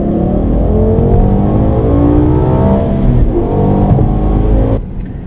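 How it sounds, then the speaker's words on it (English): A BMW E60 M5 is heard from inside while driving, its engine loud and close with a steady droning hum and rising revs, then the sound drops off abruptly near the end. "So I was driving along in the M5 one day,"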